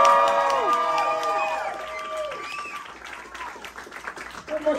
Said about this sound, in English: please, let's make some noise for Dorothy